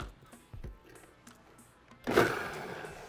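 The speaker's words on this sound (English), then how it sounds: "And now we're just going to blend until everything is nice and smooth." A blender purées chipotle peppers, garlic, tomato sauce, salt and black pepper for a chile sauce, starting abruptly partway through with a loud, steady whirring roar after quieter kitchen clatter.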